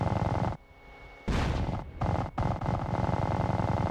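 Bombs dropping and exploding in GTA: San Andreas, a series of heavy booming blasts with rumbling low end, separated by short dips, loud and close with no talk.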